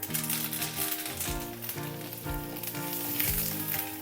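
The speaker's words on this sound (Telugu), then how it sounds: "తాలింపులో ఇవన్నీ బాగా వేయించుకోవాలి" Mustard seeds, cumin, chana dal, garlic and dried chillies fry in hot oil for a tempering, giving a loud, dense, continuous sizzle with crackling pops throughout, close up and with no voices.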